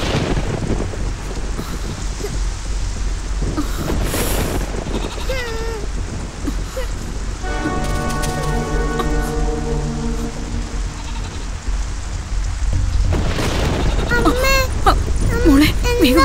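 Heavy rain falls steadily as a loud, constant wash of noise, with a rumble of thunder and a few other sounds breaking through near the end.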